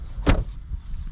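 A single car door on a 2022 Dacia Duster shuts with a short thud close by, followed by faint low rumble.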